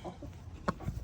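A Cornish cross hen gives a brief, close cluck that pops out once over low barnyard rumble and faint background noise, with a softer second note near the end.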